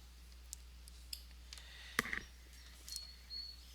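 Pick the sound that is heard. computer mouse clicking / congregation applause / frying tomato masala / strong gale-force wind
computer mouse clicking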